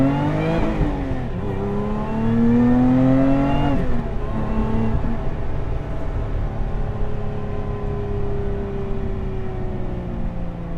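A 2022 Lotus Emira cruising on the highway at around 120 to 140 km/h, its engine a loud, steady droning roar with rising and falling tones as it shifts, heard close and continuous without talk.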